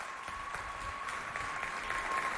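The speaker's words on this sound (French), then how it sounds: "Applaudissez très, très fort." Steady, sustained applause from a crowd at a television show in Chad, a dense wash of clapping that holds at an even level throughout.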